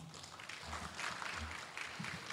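Audience applause at a college innovation support program workshop, a steady moderate wash of clapping from a seated crowd, heard at a distance for a couple of seconds.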